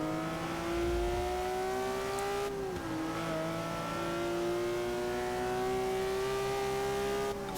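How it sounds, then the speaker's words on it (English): A Porsche flat-six engine races hard in Forza 6, a loud continuous drone rising and falling in pitch through gear changes, heard close and alone without talk. "I'm in a flat 6, he's an American supercharged V8, and Ferrari's a naturally aspirated Italian V8"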